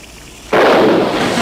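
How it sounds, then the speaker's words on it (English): A sudden loud explosion in a 1960s TV comedy set at a naval base bursts in after half a second of quiet and keeps roaring as a broad, sustained rumble to the end. "what was that explosion?"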